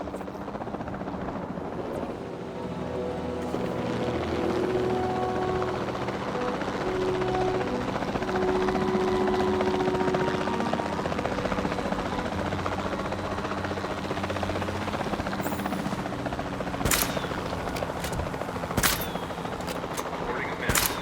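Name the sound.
helicopter in video game Jurassic World Evolution 2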